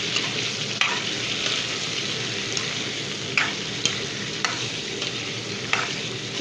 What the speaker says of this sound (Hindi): तेल गरम हो चुका है, उसी में मैं चिकन डाल रही हूँ।